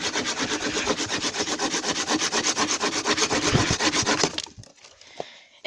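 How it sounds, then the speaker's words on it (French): A small, coarse-toothed handsaw cuts through a small tree branch with about four seconds of steady, fast, rasping back-and-forth strokes, loud and close, then stops abruptly as the piece comes free. "je vais vous présenter une petite scie comme ceci pour voir comment ça coupe."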